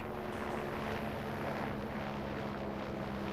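A helicopter passing overhead in Farming Simulator 22, a steady broad engine and rotor drone holding at even loudness throughout, heard alone without talk.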